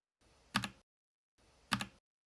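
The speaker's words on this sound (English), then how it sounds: "If you're typing, go ahead and type." Typing on a computer keyboard, two short isolated bursts of clustered key clicks close to the microphone with silence between them.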